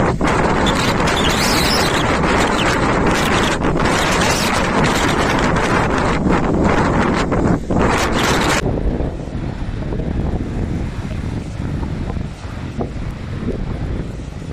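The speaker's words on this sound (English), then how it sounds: "strong gusts of wind reach near 100 km per hour" Strong cyclone wind gusts roar across a coastline at Playa de los Ingleses with sea foam blowing, a loud continuous buffeting rush against the microphone that eases slightly partway through.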